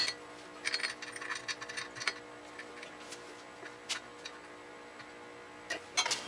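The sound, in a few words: bolt being started by hand on a CVTech clutch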